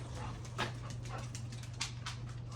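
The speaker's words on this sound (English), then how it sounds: "I'm currently taking care of these little dogs running around" Several small dogs scamper about with faint whimpers and soft yips, scattered across a steady low electrical hum; the sounds stay quiet and somewhat distant throughout.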